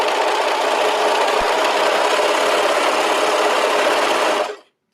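A sewing machine stitches a narrow seam on a knit top: a loud, even, rapid whirring run close up that stops abruptly at the end.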